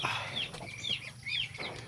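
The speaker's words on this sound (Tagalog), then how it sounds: "tayo ay papasok dito sa ating bintuan ng mga manok at saka kakaibang alaga." Chickens cluck and chirp inside a coop housing hens and other unusual birds, with repeated short calls close by against a low steady background.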